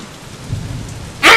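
Rain and a thunderstorm in the video game Deadlight: steady rainfall hisses throughout, then a loud, sharp thunderclap bursts near the end, with no speech.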